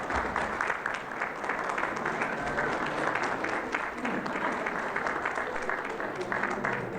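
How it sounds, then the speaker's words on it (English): Sustained applause from a conference audience honoring educators at an education gathering, a dense, steady wash of clapping hands filling the room without pause, with faint voices mixed in. "Let's give them a round of applause."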